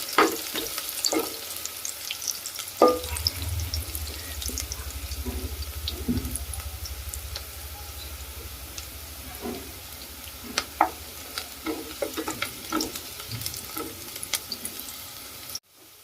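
Onions fry in a pan for Rayalaseema uggani. A continuous, moderate sizzle runs under occasional stirring and scraping, with a low rumble partway through.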